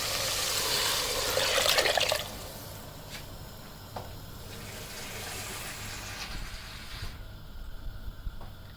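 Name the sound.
water poured into cooking pot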